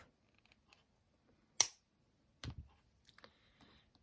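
Wire cutters snip off beading wire while making a compass pendant necklace, one sharp close click followed by a few softer clicks and handling taps in an otherwise quiet room.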